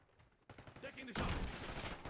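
Gunfire in the Call of Duty Warzone video game, a dense burst of rapid shots rising suddenly to a loud sustained volley in the second half.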